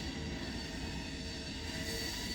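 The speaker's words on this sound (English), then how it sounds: "David, I hear another train." Train passing close by, a dense continuous rumble of rolling railcars and wheels on track, steady and loud across the whole stretch with no voices.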